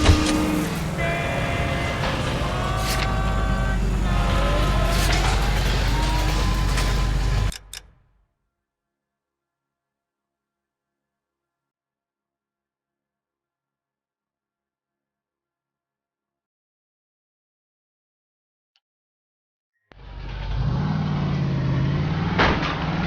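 A car driven in L.A. Noire, its engine rumbling steadily with tonal hum for several seconds, then dead silence, then the engine noise returning near the end.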